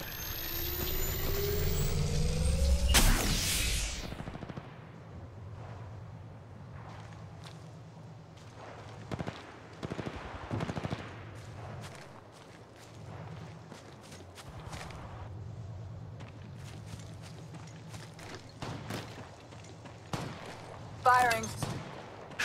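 Gunfire in the Apex Legends Mobile video game: a loud burst of engine-like rumble, then scattered sharp shots and rapid volleys over a low steady hum, with a brief crackling flurry near the end.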